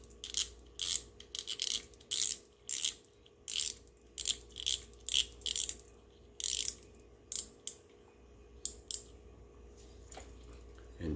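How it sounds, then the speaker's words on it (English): Rapid ratcheting clicks from a fishing reel as its tension screw is cranked back on, coming in quick bursts of a dozen or so close, crisp ticks with brief pauses between. "Now we'll crank this tension screw back on here."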